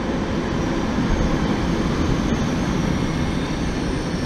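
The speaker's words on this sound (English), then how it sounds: "Here comes another train." An S-Bahn train rolls past at a station in Vienna, a loud, continuous rumble of wheels on rails that holds steady throughout, close by and with no voices.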